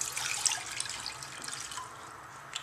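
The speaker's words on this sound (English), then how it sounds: "put the 1½ cups of water inside of there" Water pouring into a cooking pot in a kitchen, a faint, steady splashing trickle with a few brighter drips, close by and without talk.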